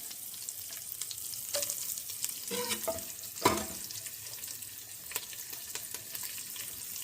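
Green chillies and onions sizzle in hot oil in a home kitchen pan, a steady close frying hiss with a few clanks and scrapes of stirring.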